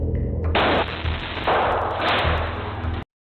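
Gunfire from security footage of a shooting in a building's first-floor lobby comes as several loud, harsh, distorted bursts in quick succession, then cuts off abruptly.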